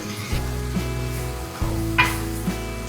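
Green beans stir-frying in a wok with Sichuan peppercorns, a dense continuous sizzle with a low steady hum and a few scrapes and tosses, close and fairly loud.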